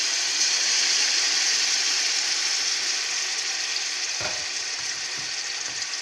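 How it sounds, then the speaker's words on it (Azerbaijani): Onions frying in oil in a pot give a loud, continuous hiss of sizzling that stays even throughout, with one brief knock of a utensil near the end. "Və qovururuq soğanı."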